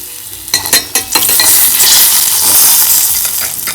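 Curry leaves and blanched vegetables hitting hot oil in a pan, a few sharp clinks of utensil against metal, then a loud, close, continuous sizzle that holds steady.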